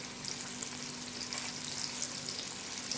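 Floured, honey-glazed mutton chops shallow frying in oil, giving a steady, close sizzle with fine crackling spatter that runs evenly throughout.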